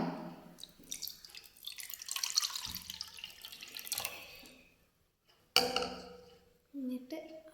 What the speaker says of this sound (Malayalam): ഇരുന്നൂറ്റമ്പത് മില്ലി വെള്ളം നമ്മളൊരു ബൗളിൽ എടുക്കുക